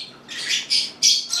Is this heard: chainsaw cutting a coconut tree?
no